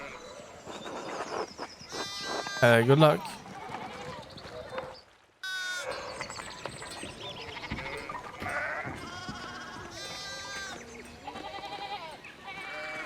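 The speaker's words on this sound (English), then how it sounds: "we need to get this sheep under control" Sheep bleat in the video game Pentiment, several wavering cries near the start with more bleats scattered through game music and ambience, while a voice speaks briefly.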